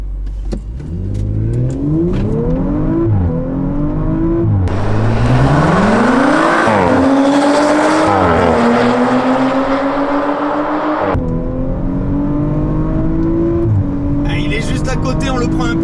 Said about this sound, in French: cette fois-ci avec la RS4, et c'est reparti pour un drag race contre les copains de Cars Passion